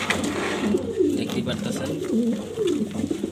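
Pair of grizzle racer pigeons, a male and a female, cooing in low rolling phrases close by, with someone talking over them.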